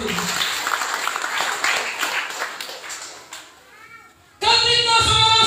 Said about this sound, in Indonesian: Mari kita tepuk tangan begitu.